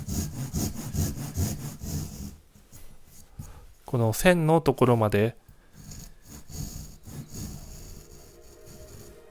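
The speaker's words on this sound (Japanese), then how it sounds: "ノコギリを入れます。" A Japanese handsaw cuts into a squared wooden block with a rhythmic series of rasping strokes. The strokes pause while someone speaks briefly, then resume as quieter, steady sawing.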